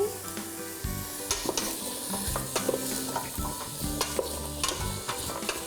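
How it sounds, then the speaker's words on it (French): Filipino pancit with vermicelli is stirred in a sizzling frying pan, the utensil scraping and clacking in repeated strokes over a continuous frying hiss. "Donc, là, je vais juste mélanger."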